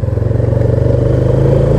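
Hum from a Honda Supra X 125 with a manual clutch while riding, a loud steady low drone with a fast regular pulsing throb, close and continuous with no talking.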